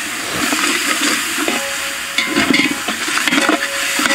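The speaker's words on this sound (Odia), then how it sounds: "ବର୍ତ୍ତମାନ ଅଦା ରସୁଣ ପେଷ୍ଟ ପକେଇଦେବା, ବଢ଼ିଆ ସେ ମିଶେଇଦେବା ପିଆଜ ସହିତ" Ginger garlic paste stirred into onions frying for a mutton curry, with a loud, steady sizzle and the scraping of a spoon working through the pan, close up and with no talking.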